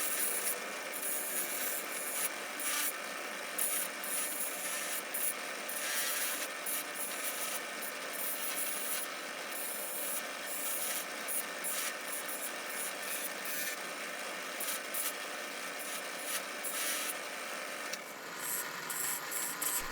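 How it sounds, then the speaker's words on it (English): A fiber wheel scrubbing rust off the fence clamp of a rusty Sears jointer, making a steady, dense abrasive whir and rasp that runs continuously at close range with only slight fluctuations. "I'm using a fiber wheel to clean it up with."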